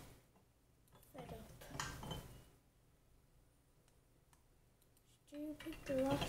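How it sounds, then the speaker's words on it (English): Dishes and glasses clinking while being washed in the video game Octodad, soft scattered clatter early on and a louder burst of bright clinks near the end, under a speaking voice. "let's just do the dishes."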